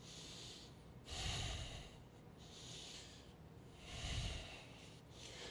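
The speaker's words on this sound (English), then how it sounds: "Deep breaths." Deep, heavy breaths during a home HIIT full-body workout: two loud inhale-exhale cycles with a gap between them, close and alone, with no talking.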